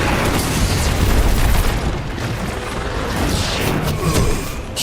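Grenade blast in the Destiny 2 video game: a loud, booming burst with a heavy low rumble that swells and tails off over a few seconds, mixed with a dense wash of crackling game noise.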